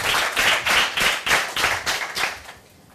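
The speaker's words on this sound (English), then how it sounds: "Big round of applause for Carsten." An audience claps in a quick, lively burst of applause that lasts a few seconds and then fades out.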